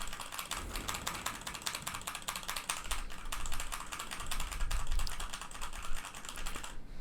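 Fast, continuous typing on a computer keyboard produces a dense stream of crisp key clicks and clatter, close and steady, with no talking.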